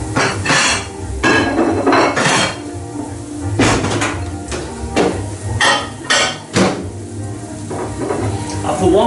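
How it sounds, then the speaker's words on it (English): Food being served onto a plate while cooking a blue cheese quarter-pounder burger: loud close clinks and knocks of utensils against a plate and pan, irregular scrapes and taps throughout, no talking. "So now I'm going to put those on a plate."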